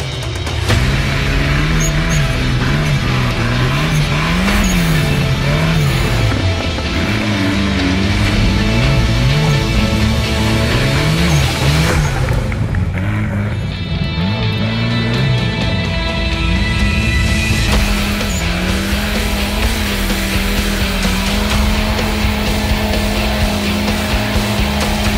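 A turbocharged Lada Niva rally car racing at an ice event, its engine loud and close, revving up and down in wavering surges, then holding a steadier high drone later on, with no voices.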